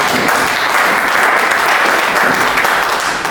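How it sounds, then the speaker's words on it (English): Political gathering crowd giving a round of applause, dense and loud continuous clapping filling the whole stretch without speech. "Give him a round of applause"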